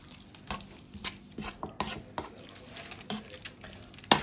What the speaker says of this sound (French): Alors là, on rajoute du fromage râpé dans notre farce. Voilà, on mélange.